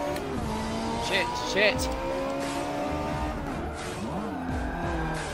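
Audi race car in Forza Motorsport 7, its engine revving hard with the throttle bounced up and down, tyres squealing through a skid, and someone talking and swearing over it.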